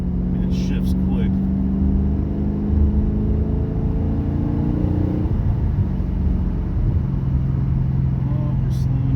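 A Chevrolet Camaro LT1 engine rumbles while being driven, its pitch climbing and dropping through quick rev-matched shifts, loud and close, with someone talking over it.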